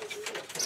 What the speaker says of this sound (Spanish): Esta paloma